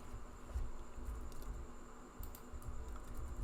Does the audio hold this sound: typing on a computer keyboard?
yes